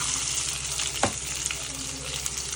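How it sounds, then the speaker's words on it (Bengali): Steady sizzling of onions frying in hot oil fills the clip, with a brief clatter or stir about a second in. "প্রথমে পেঁয়াজ দিলাম"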